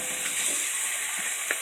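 Hot water running steadily from a tap into a bowl for making slime, a continuous soft hiss and splash heard close and alone for a brief moment.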